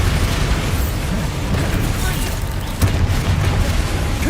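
Explosive Bombarda blasting spell going off in Hogwarts Legacy, a dense, loud low rumble with a sharp burst near the end, under game noise and voice chatter.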